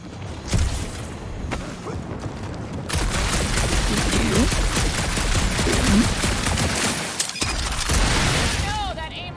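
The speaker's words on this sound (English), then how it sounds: "that aimless shooting isn't gonna scare the monsters away" Rapid gunfire and blasting from the Guardians of the Galaxy video game, a loud sustained barrage of shots and impacts with a few booming hits, playing under ongoing speech.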